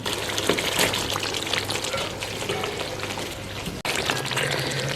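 Tender meat stirred into a frying Afghani onion gravy for namkeen piyaz gosht, a continuous close sizzle with wet bubbling and stirring scrapes, briefly cut off near the end before resuming.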